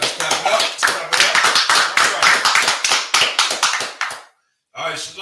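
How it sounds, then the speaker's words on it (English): A person clapping hands repeatedly in a steady run of sharp, close claps for about four seconds, then a brief silence before a short final burst. "So now, I just clap it up."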